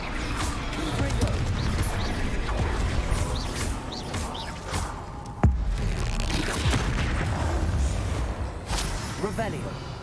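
Repeated fire-blast spell explosions from Hogwarts Legacy, loud booms and crashes layered with busy game effects and a sharp burst midway, with a voice speaking over much of it.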